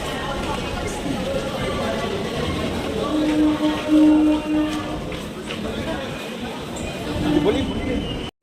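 A metro train at New Garia station rumbles steadily, with a tonal whine rising and fading, as people talk nearby throughout.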